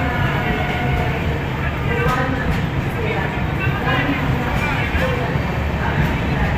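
A Shatabdi Express train moving along platform 1 at Gwalior Junction, a steady loud rumble with faint rhythmic rail clatter that continues throughout. Voices and station noise run underneath.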